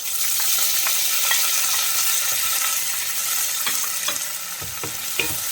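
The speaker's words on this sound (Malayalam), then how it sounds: "നന്നായിട്ടൊന്ന് വഴറ്റിയെടുക്കാം. ചെറിയ ഉള്ളി നന്നായിട്ട് വഴണ്ട് കിട്ടണം." Chopped shallots sautéing in hot oil for Kerala-style beef ularthiyathu, a loud dense sizzle held steady throughout, with light spoon scrapes against the pan toward the end.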